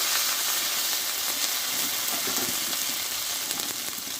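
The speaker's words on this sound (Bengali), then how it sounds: "দিয়ে মশলাটা ভালোভাবে কষে নেব" Spice paste of ground cumin and half a tomato being sautéed in a pan for a Bengali pabda fish curry, sizzling loudly and steadily from start to finish with faint stirring.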